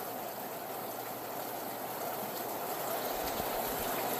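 Steady rain falls outdoors as a dog stands out in it, a constant soft hiss with a faint watery patter and no talking.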